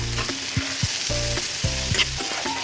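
Potatoes with cumin, garam masala and salt fry in a pan with a soft sizzle. Repeated squeaky, tonal scrapes of stirring come in short strokes, close and alone, with no talk.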